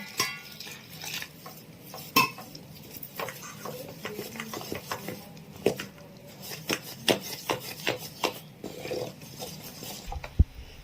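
Jalebi batter made with baking powder and baking soda being stirred by hand, giving close, irregular scraping and rubbing strokes with occasional sharper knocks against the container.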